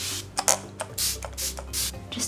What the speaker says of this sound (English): I'm now just going to spray my face with just some normal Fix Plus,